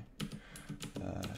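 Function and number keys pressed on a computer keyboard in a programmer's desk setup, a quick run of about six close, crisp clacks in an uneven rhythm, with no one speaking over them.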